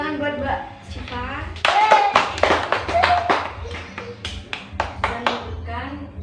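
Classroom applause for a student during a microteaching lesson, a short burst of quick hand claps rising over a teacher's voice and children talking nearby.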